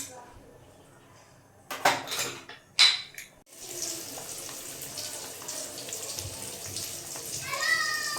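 Water pours into a metal pot of khichuri cooking with unsoftened matar dal, after a couple of sharp metallic clanks of utensils against the pot. A steady splashing gush follows, moderately loud and close, with light kitchen clatter near the end.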